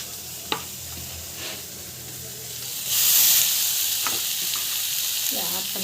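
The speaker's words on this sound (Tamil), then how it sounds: "டமாட்டா அவ்வளோதான் எடுத்துக்கிட்டு நல்லா வந்து வதக்கிட்டுக்கோங்க" Tomatoes sizzle and hiss in a hot pan as they are sautéed and stirred, a steady close frying crackle with a few spoon taps and a brief surge of steam partway through.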